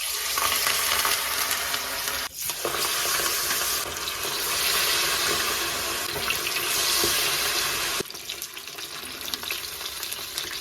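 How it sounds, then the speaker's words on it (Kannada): Marinated fish kebab pieces fry in hot oil in a pan with a loud, steady, close sizzle that runs throughout, broken only by two brief dips. "ಸೊ ಇವಾಗ ಅದರೊಳಗಡೆ ನಾನು ಮೀನು ಪೀಸ್ಗಳನ್ನ ಬಿಡ್ತೀನಿ"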